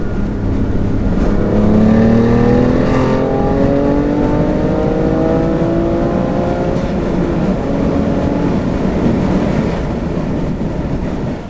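BMW F80 M3 with high-flow downpipes in sport mode with exhaust valves open, revving in light rain with a window down, a loud rising engine note sweeping up repeatedly over steady road and wind noise.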